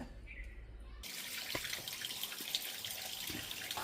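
Water in a home waterfall fountain is forced through under pressure: a steady, close rushing hiss that switches on abruptly after a quiet first second and runs evenly to the end.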